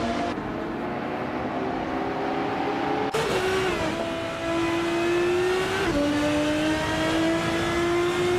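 Retro GT 500 race cars lap Istanbul Park in a racing video game, a close engine whine holding a steady pitch and then shifting up through gear changes, loud and continuous with no talk.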